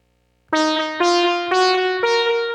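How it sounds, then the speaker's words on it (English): Four bright synth notes from an Ableton Push 3, each with a quick repeating slapback echo trailing behind, leaving a ringing, layered tail; no voices. "Now let's add the echo. It's more of a slapback echo."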